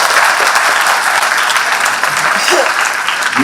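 Audience at a Diwali event for students held by Chief Minister Mohan Yadav breaks into loud, steady applause that stays dense and continuous throughout, with no voice rising above it.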